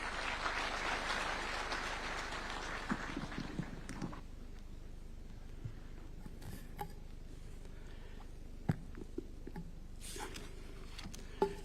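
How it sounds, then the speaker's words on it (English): A round of applause from a crowd at a Kenyan state event fills the first few seconds, then fades to a quiet room with scattered small knocks and rustles. "A round of applause."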